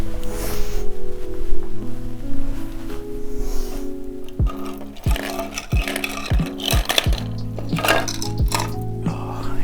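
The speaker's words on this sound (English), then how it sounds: "all that noise was 3D prints that I've done" Rigid 3D-printed plastic pegboard panels, 8x8 multiboard sections, being picked up and handled: a busy run of close clacks, clatters and rustles, with sharp knocks clustering in the middle and continuing to the end, no talking.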